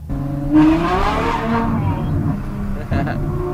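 A widebody Ferrari F12 with an F1 exhaust revs to around 4,000 RPM, a loud, sustained engine roar close by that rises sharply and holds, with a second brief blip near the end.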